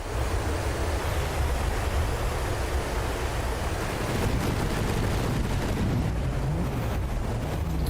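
Mortar and gunfire from a From the Depths naval battle form a continuous, dense rumble of distant artillery and gunfire. Low booms roll under a broadband, surf-like wash, with no voices.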